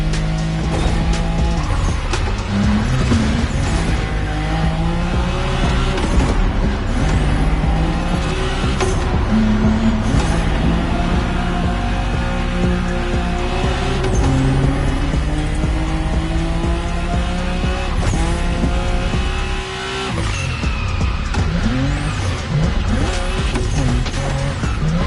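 A drifting car in The Crew Motorfest roars loudly through constant engine revs, with tires squealing as it slides sideways. The noise holds steady for the whole stretch, with only one brief dip near the end.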